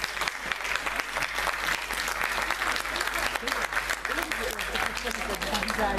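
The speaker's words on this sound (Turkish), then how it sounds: "Biraz daha canlı yapsak alkışı lütfen" Audience applause at a Turkish opening ceremony, dense steady clapping from a crowd filling the whole stretch with only brief dips, loud and continuous.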